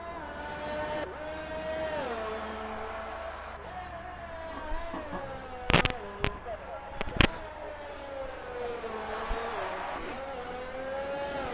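Onboard engine of a race car lapping Monaco in a racing video game: a continuous whine rising and falling through gear changes, with a commentator talking over it and a few sharp clicks midway.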